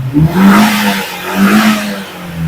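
A Suzuki Cultus car engine revs twice as the accelerator is pressed, each rise climbing and falling back, loud and close with a slight clatter under the engine tone.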